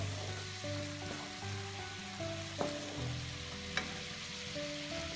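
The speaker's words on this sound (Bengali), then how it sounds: "হলুদ মরিচের গুঁড়া জিরার গুঁড়া গুঁড়া মশলা এবং চুনির পেস্ট দিয়ে মশলাটাকে কষাতে হবে" Masala of turmeric, chili and cumin powder with spice paste frying steadily in a pan, a continuous close sizzle with a couple of sharp utensil taps, no speech.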